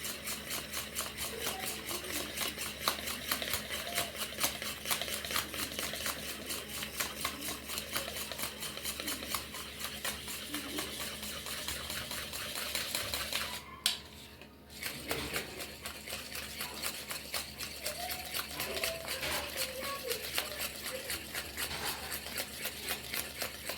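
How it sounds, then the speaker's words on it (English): Manual whisk beating vanilla self-raising cake batter in a bowl, a fast steady rattling rhythm that runs continuously with one brief pause near the middle. "this process might even take 5 minutes because I'm using the manual whisk"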